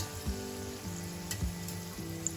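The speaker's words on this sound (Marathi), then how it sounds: "एका बाजूने आपले वडे छान असे तळून झाले" Mumbai-style vada pav fritters deep fry in hot oil with a steady, quiet sizzle and a few soft bubbling pops and stirring touches, close by, with no talking.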